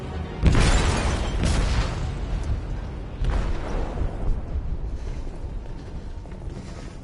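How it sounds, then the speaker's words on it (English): An explosive detonating in a ship's hold in the video game Detroit: Become Human: a deep, heavy boom with a rumbling, mechanical aftermath and a second surge partway through, loud and close, with no voices. "They detonated an explosive in the hold."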